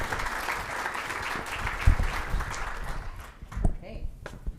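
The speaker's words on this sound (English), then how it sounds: "Please give our panelists a round of applause." An audience at a workforce summit applauds panelists, steady clapping for about three seconds that thins to a few scattered claps and thumps near the microphone.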